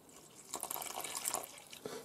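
Water pours and drips into a bowl of bread flour, salt and oat flakes for homemade wholemeal oat bread, a short splashing burst that starts after half a second, with a final splash near the end.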